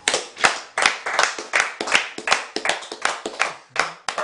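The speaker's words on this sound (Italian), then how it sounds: "Applauso." Close, crisp hand clapping from a small group during an Italian national volleyball team interview, sharp claps in a quick, slightly uneven rhythm lasting about four seconds with no talking.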